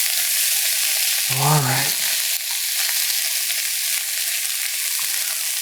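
Mushrooms, spinach and bacon sizzling steadily in a frying pan while being stirred, a bright continuous crackle close up, with a short spoken remark over it near the start.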